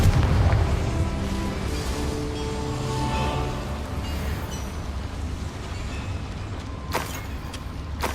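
Confringo spell blasts go off in the video game Hogwarts Legacy, deep booms and rumbling explosions under a continuous mechanical din, with a couple of sharp bursts near the end.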